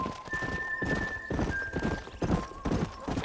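Horse hooves clip-clopping at a gallop in Red Dead Redemption, a steady rhythmic beat of close, loud hoof strikes with a brief whinny and tonal game music running underneath.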